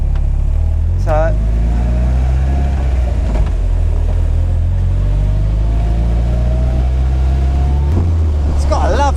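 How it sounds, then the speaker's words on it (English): An MK Indy RX 5 160 car engine rasps loudly from inside during a test drive, a constant deep drone with rising revs and gear changes, while a voice talks intermittently over it. "it's got a lovely rasp to the engine though. Really nice little rasp to it."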